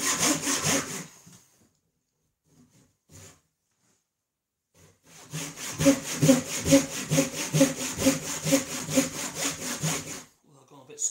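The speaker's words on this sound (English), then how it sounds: "This isn't an ideal position for the saw anyway." A Western hand saw cuts timber for a screwless sawhorse: a short burst of strokes, a pause with a couple of faint taps, then a long run of rhythmic, close rasping push-pull strokes before it stops.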